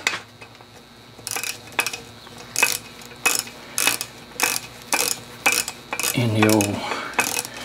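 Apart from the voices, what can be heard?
Evinrude 15 HP outboard gears shifting through sequence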